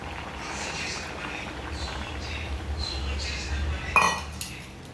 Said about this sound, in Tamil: எல்லாத்தையும் நல்லா மிக்ஸ் பண்ணிடுங்க.